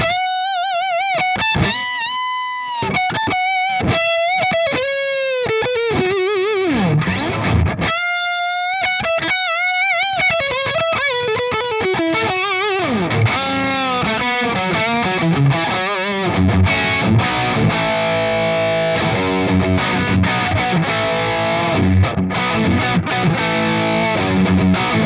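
A hand-wired, point-to-point Badcat Cub V EL34 amp with spring reverb plays an electric guitar through a Klon overdrive pedal: loud, driven single-note lines and bends give way to thick, sustained overdriven chords, with no talking.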